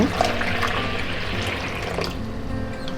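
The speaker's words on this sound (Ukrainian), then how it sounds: "наливаємо в миску води" Tap water running steadily into a bowl in a home kitchen, a continuous splashing fill heard close and alone, with no talk over it.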